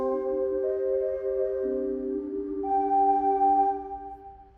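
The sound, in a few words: music generated by Strudel live coding code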